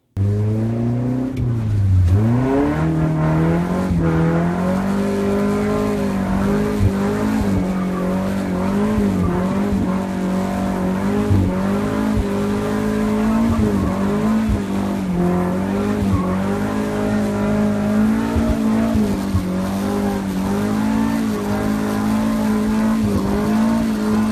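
Drift car with a KA engine, flicked side to side: a steady, loud engine drone rises and falls with revs, tires squealing and skidding as the car swings, with no talk over it.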